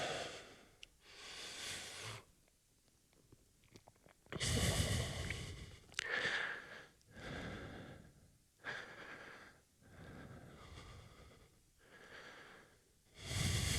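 After holding a strenuous power yoga pose, a person breathes heavily in slow, deep cycles: long audible inhales and exhales with snorty nasal bursts, close and fairly quiet, with no talking.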